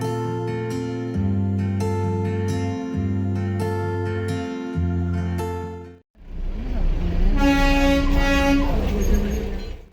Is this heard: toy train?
yes